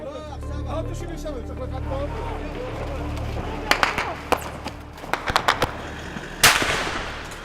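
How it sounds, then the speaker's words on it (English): Gunfire in a tense street scene where journalists are being questioned, heard as several sharp cracks and short bursts in the middle and near the end, loud and close, over constant voices and background noise. "there's a lot of firing going on"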